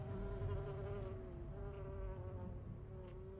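Bee buzzing in The Secret World, a near, continuous droning whir with gentle pitch wobble and steady loudness, heard alone.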